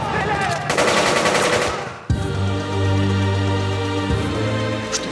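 Rapid machine-gun fire bursts loudly in a film trailer about the Soviet-era massacre, with a sharp cut midway into a steady, droning second burst.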